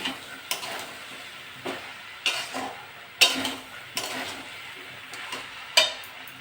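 Jackfruit and prawn curry sautéing in a pan, with a low sizzle broken by several distinct scraping strokes of a spoon against the metal, each arriving at an uneven interval at close range.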